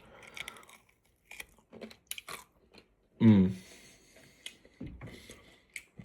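Someone chews and bites into crispy homemade bacon up close, with scattered crunches and wet chewing, one louder bite in the middle, and brief bits of talk between.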